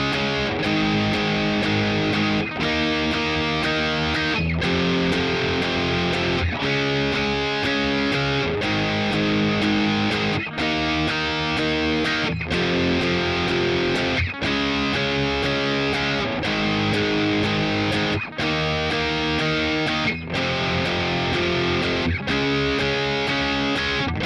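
Heavily distorted electric guitar strums the power-chord chorus of a song, loud and steady, with regular short breaks between chord groups every couple of seconds throughout.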